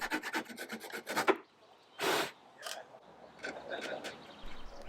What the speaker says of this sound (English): Just a bit of sanding and Bob's your uncle.